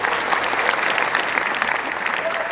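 A church congregation at GBI Bandung breaks into dense, steady applause, with many hands clapping at an even loudness throughout.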